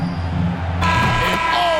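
An end-of-quarter buzzer sounds in the NBA 2K22 basketball video game, a loud sustained electronic tone arriving partway through over crowd and broadcast ambience.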